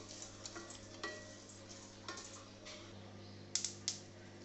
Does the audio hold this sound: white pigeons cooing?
no